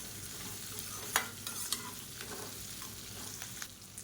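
Dried red chillies fry in hot oil for an onion chutney, giving a steady low sizzle with a few sharp crackles and stirring clicks near the pan.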